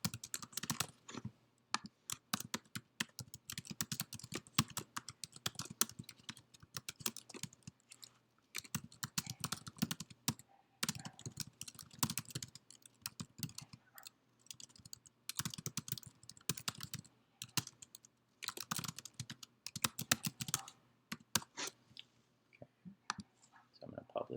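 Typing on a computer keyboard while writing a blog post, a steady stream of quick key clicks in uneven bursts with short pauses, close and fairly soft.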